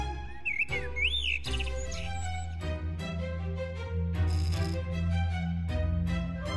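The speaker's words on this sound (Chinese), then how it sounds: "长得奇怪的彩色小鸟" Strange, colorful little cartoon birds give quick, bright, sliding chirps and whistles near the start, followed by sustained tonal music-like sounds with small plinks.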